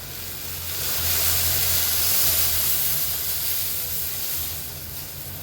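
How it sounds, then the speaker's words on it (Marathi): A pot of Maharashtrian amti curry at a rolling boil on the stove, a loud steady hiss and bubbling simmer that swells in the middle and eases slightly, with no talking over it. "आपल्या आमटीला छान उकळी आली आहे"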